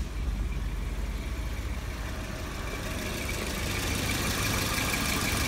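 A Volvo engine idles steadily after a sea foam treatment, a continuous low rumble with a faint knock, close and even in level, no voices.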